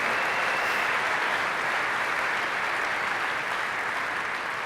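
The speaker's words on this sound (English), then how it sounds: "Sponsors, let's have a big round of applause and thank you so much." A large crowd at the Boilermaker Regional 2009 robotics competition gives a sustained, dense round of applause for the sponsors, loud and even throughout with no break.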